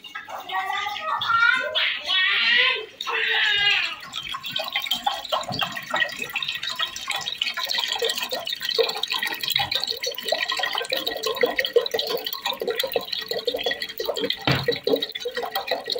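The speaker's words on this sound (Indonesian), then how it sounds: "Kita masukkan air seberapa banyak terserah aja Mams." Water is poured from a tap into a large cooking pot, a steady close splashing and gurgling stream that fills most of the span, with someone talking over it at the start.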